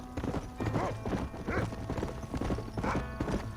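Horse hooves clip-clop at a steady trot in the Red Dead Redemption video game, close and continuous throughout, with a brief whinny-like sound in the mix.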